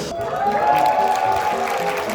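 Brief applause from an audience at a Korean K League fan awards and talk-concert event, a short burst mixed with light crowd cheering and a faint tone in the background.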